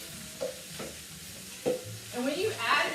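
Onions and mushrooms hit a hot pan for a wild mushroom pasta, giving soft sizzling with a few stirring scrapes and clicks over about three seconds. The sizzle builds toward the end, close and moderately quiet, with no talking.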